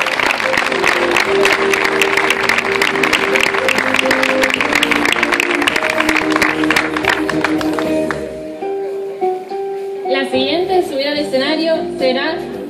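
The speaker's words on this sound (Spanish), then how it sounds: "le damos un aplauso a Cayetano Guerra Mendoza." Audience applause at a 2024 tribute to canteens and bars in Barrial de Gáldar: a loud crowd clapping over sustained tones for several seconds, which then gives way to a voice speaking over a quieter background.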